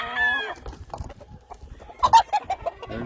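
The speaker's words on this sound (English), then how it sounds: "That's one of my hatch roosters, or Kelso roosters" White-legged Kelso roosters on an Oklahoma farm cluck in scattered, uneven bursts, with a brief crow at the start and a louder flurry of clucks near the end, all close by.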